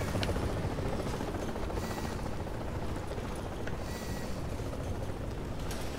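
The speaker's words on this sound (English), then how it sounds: "Where's that chopper going?" A helicopter flies overhead in the video game The Division: a continuous low, rumbling drone that stays steady and fairly faint for the whole stretch.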